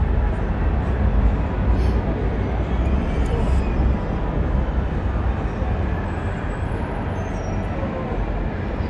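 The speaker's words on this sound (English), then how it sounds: "You might hear a bit of traffic in the background." Steady road traffic on a busy street in Bristol forms a continuous broadband rumble throughout, fairly loud and unbroken, with vehicles blending together rather than passing one by one.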